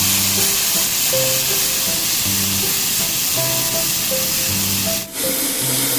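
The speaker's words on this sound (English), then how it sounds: "Add green peas and stir briefly" French beans and green peas are stir-fried in a restaurant-style pan for spicy mixed vegetable rice, giving a continuous loud sizzle and hiss with brief stirring scrapes, set against steady background music.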